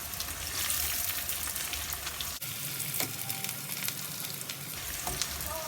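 Tomatoes, garlic, ginger and green chili fry in a pan for a gravy, giving a steady, dense sizzle with faint crackles throughout and a brief dip midway, close and alone with no talk.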